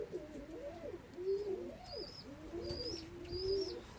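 A pigeon coos in repeated soft, throaty phrases close by, with faint higher bird chirps in the background.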